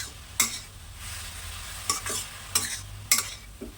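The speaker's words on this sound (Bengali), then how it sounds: "পুরো ঘি দিয়ে আমি এই গাজরটাকে ভেজে নেব" Grated carrots frying gently in ghee over low heat for carrot halwa, with a soft steady sizzle broken by several sharp scraping stirs of a spoon against the pan, close and moderately loud, with no talking.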